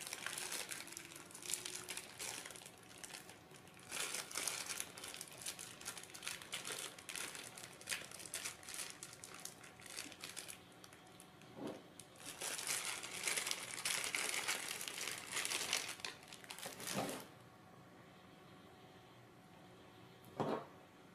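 A plastic bag holding parts for a Tamiya mechanical insect robot kit is opened and handled, giving intermittent close crinkling and rustling with a few louder bursts and quieter gaps.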